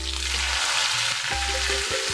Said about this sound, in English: And now let's add this tempeh to the mango curry.